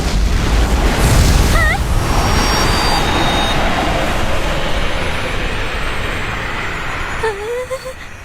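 An anime wind blast attack erupts in a loud roaring whoosh with a heavy burst near the start, sustained rushing noise and faint whistling tones, slowly fading over several seconds.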